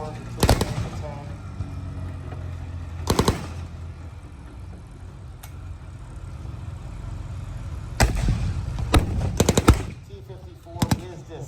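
Blank gunfire during a tank battle reenactment at the Canadian Tank Museum in Oshawa, with sharp bursts and single shots scattered over a steady outdoor rumble at moderate distance.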